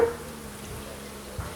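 A low, steady honeybee buzz hums throughout, bees droning around a top bar hive fourteen days after a 3-pound package install, fairly faint and continuous.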